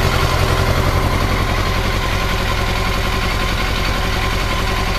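A 600cc motorcycle engine idles in a KJ Raycing VF-1 crosskart, running at a steady, loud, even beat throughout with no voices over it.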